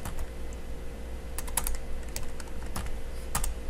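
Keys clack on a computer keyboard during spreadsheet work, with a run of irregular, crisp taps that includes an Alt plus Enter press, close and clear over a low background hum, with no talking.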